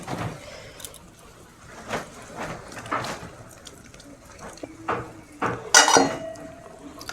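Spoon scraping and clinking against a metal sieve while straining mango sherbet, a series of sharp taps and scrapes at uneven intervals, close by, with a louder clatter near the end.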